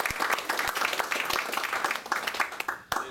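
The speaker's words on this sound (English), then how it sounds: "a quick round of applause for Scott." An audience at a youth baseball ceremony gives a lively round of clapping and applause, dense and close, tapering off near the end.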